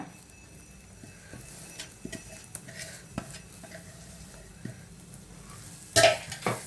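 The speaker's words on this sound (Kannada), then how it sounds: "ಈಗ ಇದಿಷ್ಟು ಚೆನ್ನಾಗಿ ಹುರ್ಕೊಂಬಿಡೋಣ" Chilli powder and grated coconut stirring in a little oil, with soft scraping and occasional spoon knocks against the pan and a faint sizzle, ending in a louder clatter.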